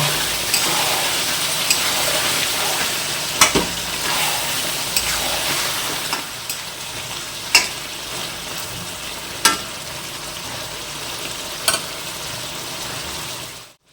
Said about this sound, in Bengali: মাংস কষা হয়ে গিয়েছে, মাংস থেকে তেল ছাড়তে শুরু করে দিয়েছে দেখো